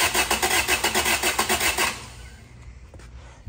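A Toyota 2ZZ-GE engine in a Celica cranks with a rapid, rhythmic churn for about two seconds, then falls to a quiet idle-like hum with a faint knock near the end.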